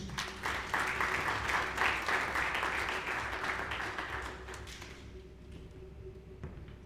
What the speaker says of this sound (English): Ladies and gentlemen, I would like you to make a big round of applause.